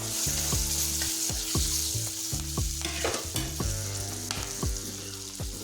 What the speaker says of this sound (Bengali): কাঁচা লঙ্কা কুচি যোগ করছি এটাকে আরও মিনিটখানি এভাবে নেড়ে নেবো